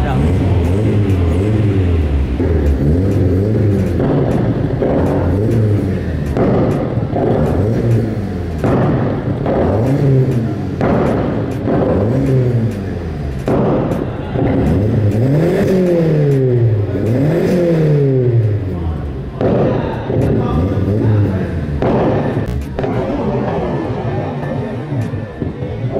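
A tuned car's engine revving repeatedly in loud rising and falling bursts, with exhaust backfire pops, as people talk over it nearby.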